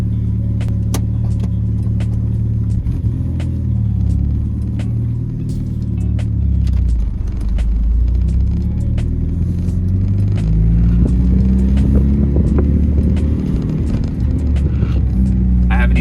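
Interior of a Mitsubishi Lancer Evo 8/9 being driven, a loud, steady low engine rumble with small rattles and clicks throughout.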